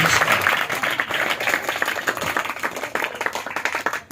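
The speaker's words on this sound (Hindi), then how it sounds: "जोरदार ताली एक दफा फिर खुदावंद की" Worshippers in a church service clap loudly together, a dense burst of hand claps whose swells and dips suggest a loose rhythm, continuing strongly for a few seconds.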